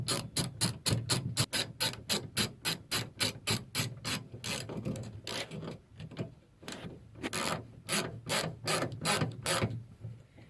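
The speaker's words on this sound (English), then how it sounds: "You can now reinstall the bolt for the handle." Bolt being reinstalled on the tailgate handle of a Colorado ZR2, with a fast, steady run of ratchet clicks up close, a short pause, then another burst of ratcheting.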